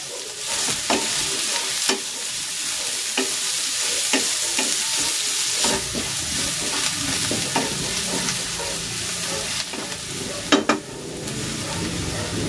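Onion is stir-fried with bacon fried rice in a pan, giving a steady sizzle with repeated scraping and clinking spatula strokes throughout.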